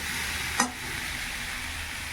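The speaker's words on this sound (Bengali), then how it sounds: "দিয়ে ভালো করে নাড়াচাড়া করে দিচ্ছি একটু ভাজা ভাজা করে নিয়ে তারপরে মশলা দিয়ে দেবো" Taro and rohu fish sizzle and crackle in hot oil as they are stirred in a pan, with one sharp scrape of the spoon early, then a steady fry continuing alone.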